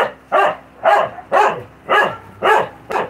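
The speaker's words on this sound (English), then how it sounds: "Sorry for the dog barking." A dog barks six times in a steady, evenly spaced rhythm, each bark loud and close, with nothing else heard.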